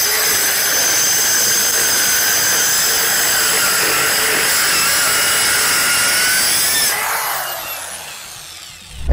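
A Hychika mini circular saw whines loudly and steadily as it cuts through a wooden 2x4, then spins down and fades near the end.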